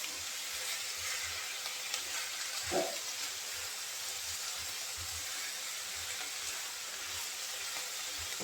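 Hilsa fish head and red amaranth fry in a pan with a faint, steady sizzle and soft clinks of stirring, one brief louder scrape near the middle, no talking.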